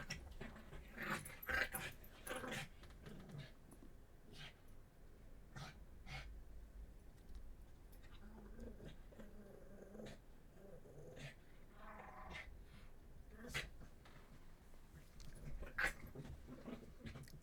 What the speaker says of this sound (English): If you hear the ferocious growls in the back, she's fighting my German Shepherd right now